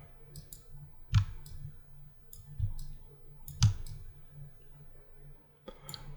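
A computer mouse clicks a few times while a music production program is being used, with sharp isolated clicks spaced a second or more apart over a quiet background.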